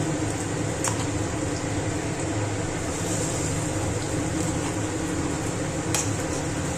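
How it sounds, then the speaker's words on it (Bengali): Pui leaf (Malabar spinach) fritters frying in hot oil, a steady broadband sizzle and crackle holding at an even level throughout, with a couple of brief sharper pops. "এই যে পকোড়াগুলো একটা একটা করে এর মধ্যে আমি ছেড়ে দিচ্ছি"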